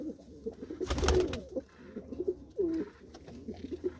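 A homing pigeon with red on its shoulders and pale yellow eyes coos nearby in soft, low repeated phrases, broken by a short burst of wing flapping or rustling.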